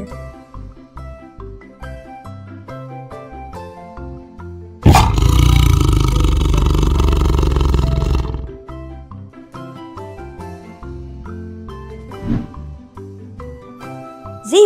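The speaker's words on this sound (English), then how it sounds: "Tiger." A tiger gives one loud, deep, sustained roar lasting several seconds, framed before and after by light, jingly children's music.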